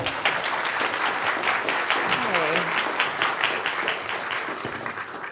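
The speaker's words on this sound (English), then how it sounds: "big round of applause for Flo" Audience applause at a software development talk, sustained clapping from a room full of people that holds steady for several seconds then begins to taper, with a brief voice mixed in over the clapping.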